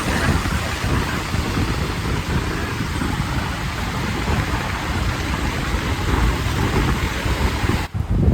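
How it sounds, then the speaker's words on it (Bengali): Outdoor rain at night during a festival outing in a city, a dense, loud, continuous hiss of falling water with traffic rumble underneath and no clear talk. "এখন বৃষ্টি কিন্তু এখনো থামেনি কিন্তু অল্প একটু কমেছে"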